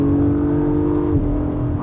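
An Acura MDX Type S SUV under full-throttle acceleration, its engine note droning loudly and steadily before easing off, heard from inside the cabin.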